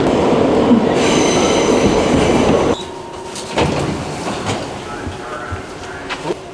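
A New York City subway train at the Times Square 42nd Street station roars loudly past, then cuts off into quieter platform ambience with rumbles, squeals and clanks, some voices faintly in the background.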